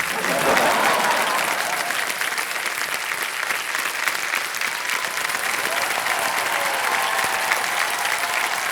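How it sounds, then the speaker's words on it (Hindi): Sustained applause from a studio audience on the KBC quiz show set, dense and steady throughout, with faint musical tones rising underneath toward the end. "जोरदार तालियां रजनी जी के लिए"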